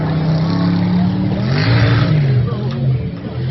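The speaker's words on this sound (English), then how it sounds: "That is a transmission slipping." A mega truck's loud engine drones and revs unevenly, pitch wavering up and down as the transmission slips before a big jump attempt, steady and close.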